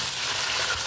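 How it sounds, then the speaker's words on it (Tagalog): Onion sautéing in hot cooking oil for Filipino pinakbet, a steady close-up sizzle with broadband hiss and crackle, even and continuous with no talking. "Habang niluluto natin ang sibuyas"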